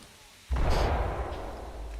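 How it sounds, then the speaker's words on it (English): A single loud, booming gunshot in the video game Ready or Not breaks the quiet, followed by a long rolling rumble that lingers and slowly fades. "Heading toward the sound of gunshots."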